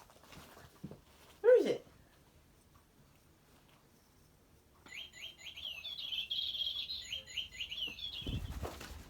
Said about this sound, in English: there go the birds